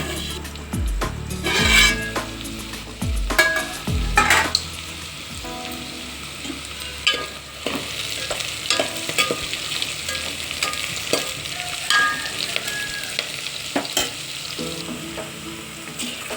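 Okra pieces fry and are stirred in a pot for vegetable biryani, a loud close sizzle with repeated scraping and clinking strokes of the stirring spoon and no talking.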